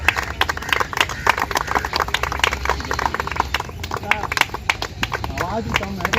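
Scattered clapping from an outdoor audience at an Independence Day gathering on a river ghat, honoring the temple priest, rising in uneven bursts beneath a speaking voice.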